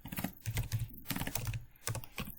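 Rapid clacking keystrokes on a computer keyboard come in short uneven bursts with brief pauses, close and clear, while code is entered in a data pipeline template.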